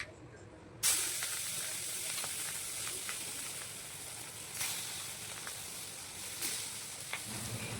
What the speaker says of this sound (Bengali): আর এই যে মাছ, এই রুই মাছ এখন এই নুন হলুদ মাখিয়ে ভাজতে শুরু করি।